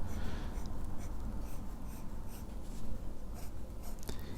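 A Jinhao 9056 fountain pen with a medium nib scratches across paper in a series of soft, close, short strokes, quiet and dry against a faint background hiss.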